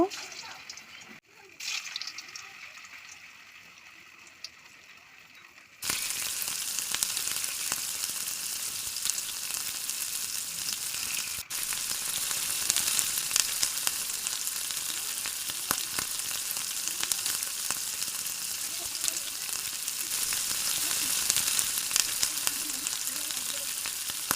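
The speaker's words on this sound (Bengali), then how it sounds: "তেল গরম করে লো হিটে ভেজে নেব" Potato balls deep frying in hot oil on low heat, a quieter opening that gives way to a sudden loud, continuous bubbling sizzle up close, with a voice talking briefly near the start.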